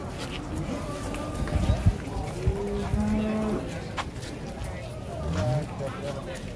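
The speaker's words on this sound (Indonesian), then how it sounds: "Sapi banteng." Banteng cattle being unloaded from a truck moo repeatedly, with several drawn-out calls rising over a busy background of hoof thuds, crowd chatter and general commotion close by.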